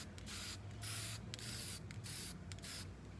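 An aerosol can of spray paint sprays in repeated hissing bursts of roughly half a second, close by, over a low steady background hum, with no talking.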